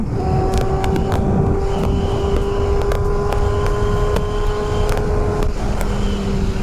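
A Kawasaki Z800 inline-four motorcycle engine runs steadily while riding, a continuous loud drone with a sustained tonal whine and wind rush, with intermittent clicks over it.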